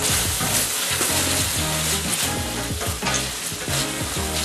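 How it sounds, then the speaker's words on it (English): Vegetables and zucchini sizzle steadily in a frying pan, with a loud, continuous crackle and some stirring throughout, close up and with no talking. "The sound you're hearing is the vegetables."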